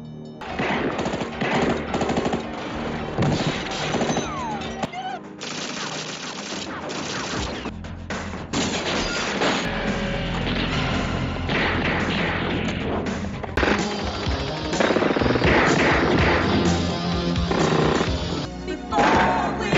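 Shootout gunfire from a Miami Vice TV series scene: loud bursts of rapid gunshots and volleys crack repeatedly across a long stretch, mixed with thuds and action-scene noise.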